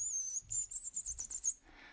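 High-pitched whistled imitation of a waxwing call by a person, a run of thin, trilling whistles repeated in quick bursts, close and fairly clear, with no talking.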